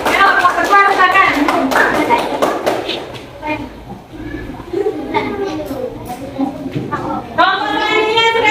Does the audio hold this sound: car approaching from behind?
no